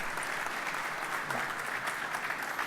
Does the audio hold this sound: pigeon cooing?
no